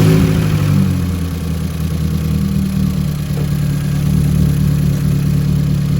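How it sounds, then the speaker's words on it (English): A cold Ford Fiesta ST engine idles after starting, a steady, loud, close low rumble with a slight rhythmic clatter and no voices over it. "we can't really tell now because the car's cold starting"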